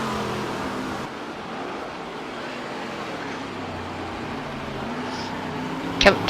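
Stock cars race in the Game Stock Car video game at the Jacarepaguá circuit, a steady engine drone holding throughout with a brief sharp transient near the end.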